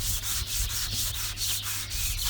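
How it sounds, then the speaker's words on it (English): Steady, rhythmic back-and-forth scrubbing of an outdoor wooden table surface with a grip pad and grain enhancer, close and alone, with regular strokes repeating about every quarter second. "now we get one of our grip pads and a rag, and we're just going to give this"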